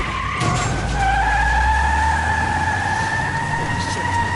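A car skids in The Wolf Among Us video game, with long tire squeals sweeping across the clip over a low engine rumble, loud and close throughout.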